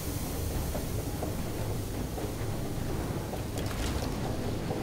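Boat engine in the video game FAR: Changing Tides gives a steady, loud, broad mechanical rumble and rush with rattling texture that holds unbroken throughout, with no talking.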